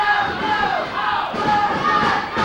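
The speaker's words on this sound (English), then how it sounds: "Here the crowd screaming, "Go, Doug, go!"" A 1998 Ohio Valley Wrestling arena crowd screams and cheers in swelling waves, loud and close, with voices rising and falling throughout.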